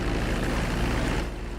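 Propeller airplane flying in Grand Theft Auto V, a loud steady droning engine hum that stays close and continuous throughout.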